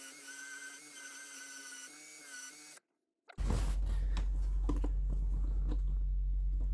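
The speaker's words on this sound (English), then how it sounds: "I just love drilling holes in the boat," A loud power drill grinds steadily through a boat after a brief silence, preceded by a high whirring motor; the drilling continues without pause to the end.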